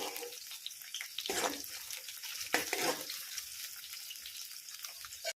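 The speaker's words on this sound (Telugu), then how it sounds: "కొంచెం ఆయిల్ వేసుకొని పచ్చిమిర్చి ఇంకా ఉల్లిగడ్డలు కూడా వేసుకొని ఇలా మగ్గించుకుంటాను అనమాట ఇంకో ఇలా మగ్గిపోయిందండి కలిపేస్తున్నాను" Green chillies and onions being stirred in hot oil in a pan for a potato curry: a soft, steady sizzle with two louder scraping stirs, close by.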